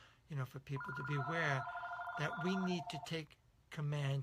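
A landline telephone rings in two long electronic trills beneath someone speaking steadily, the ringing clear but partly mixed with his voice before it stops.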